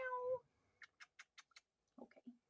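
Pet cat in heat giving a drawn-out meow at the start, followed by a quick series of short soft chirps and a low murmuring sound, close and quiet.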